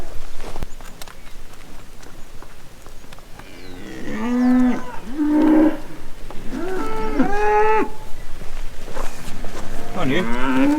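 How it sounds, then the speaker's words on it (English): Cattle in a pasture, older cows and heifers near a maize feed, give several loud, drawn-out moos in succession, close by, over outdoor background noise. "the older cows definitely know where to go for a bit of a feed"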